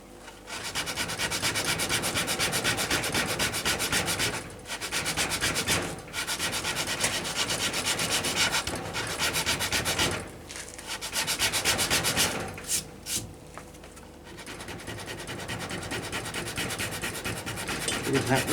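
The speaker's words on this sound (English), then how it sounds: "bit of sandpaper" Steady, close rubbing strokes of sandpaper working a wooden bow tip, long continuous passes broken by a few brief pauses and some quick short scrapes near the end, no voices.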